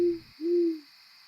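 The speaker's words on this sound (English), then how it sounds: "the occasional hoot of a distant owl" Two low hoots from an owl in a dark forest, the second longer and softer, over a steady high hiss of background ambience.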